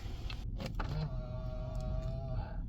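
A steady electric motor whir from the driver folding mirror of a 2013 Land Rover Range Rover Sport HSE, humming close and evenly for a couple of seconds over low background rumble.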